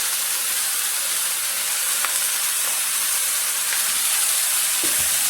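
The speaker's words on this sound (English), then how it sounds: "we're going to cook this down until it is browned" About a pound of ground meat browns in a pot for chili con carne, giving a steady, dense sizzle that is close and continuous throughout, without talking.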